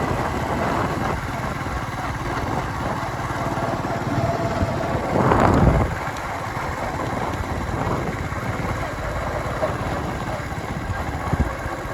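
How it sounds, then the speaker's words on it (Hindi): A motorcycle engine hums steadily while riding along a road, with wind rush and a brief louder swell midway. "चलिए मैं बाइक चला रहा हूँ"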